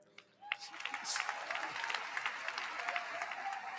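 Applause at a college of engineering commencement ceremony: a large crowd clapping steadily after a brief quiet start, sounding somewhat distant and diffuse across a big hall, with no talk over it.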